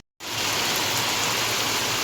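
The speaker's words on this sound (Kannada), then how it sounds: "ಮಳೆ ಬರತೈತಿ" Steady rain pours down in a village after a sudden onset, a dense, even hiss of drops that continues unbroken and fairly loud with no voices over it.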